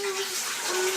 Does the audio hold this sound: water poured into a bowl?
yes